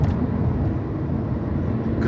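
Inside a car creeping through backed-up traffic, a dense, steady low road and engine rumble holds without a break, loud and close.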